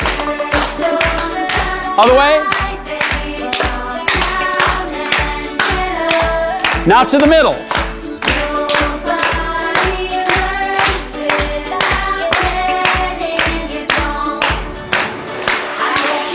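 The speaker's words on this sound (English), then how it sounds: "Now we just clap, going from left to right." Hands clap in a steady, brisk rhythm through an exercise routine, each clap crisp and close, running continuously over upbeat backing music while an instructor calls out directions.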